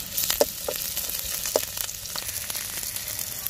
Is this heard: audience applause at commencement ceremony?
no